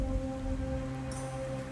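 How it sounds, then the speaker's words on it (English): Steady rain ambience in the city-building game Cataclismo, a constant soft hiss of rainfall over low game-music tones, moderately quiet and continuous, with no speech. "Not worried about the rain right now."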